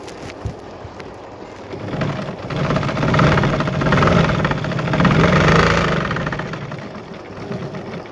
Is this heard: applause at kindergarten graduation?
no